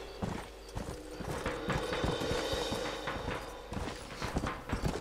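Horse hooves clip-clop steadily in a Red Dead Redemption game, a close, even walking rhythm of many hoofbeats over a constant low rumble, with an occasional faint whinny.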